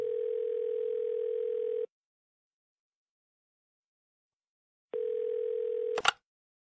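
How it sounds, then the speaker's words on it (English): A telephone ringback tone sounds as a call is placed: two loud, steady buzzing tones separated by a few seconds of silence, the second cut off by a click as the line is picked up. "We've come up with a conversation here where I am calling in and Crystal this time is taking in the part of the receptionist"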